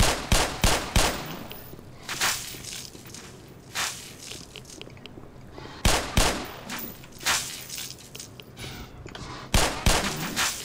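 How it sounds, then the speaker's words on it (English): Gunfire in the video game Black Mesa comes as several loud, close bursts of rapid shots, separated by short pauses with quieter rustling. "I can shoot him from here"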